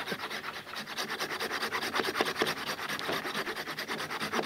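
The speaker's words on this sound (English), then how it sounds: "hi-ho, a sawing we will go." Hand saw cutting through the trunk of a fairly solid tree in the woods, a steady rhythmic rasping of back-and-forth strokes, close and continuous without talk.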